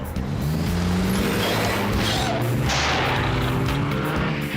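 Revving sports-mode car engine from an animated cartoon, a loud steady roar with rising pitch and tyre squeal, continuous throughout with a music bed underneath.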